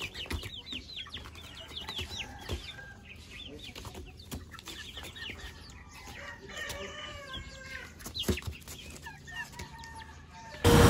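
Indio Gigante Dumbo chickens, young birds around six weeks old kept on a farm, cluck and chatter repeatedly in overlapping calls, with rooster-like crowing notes, fairly near but soft, and no talking.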